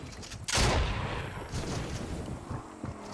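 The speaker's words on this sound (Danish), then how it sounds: "jeg bliver skudt af de andre nu" Gunfire in the video game Fortnite bursts loudly, with a sharp blast followed by a dense rolling volley of shots that continues through the moment.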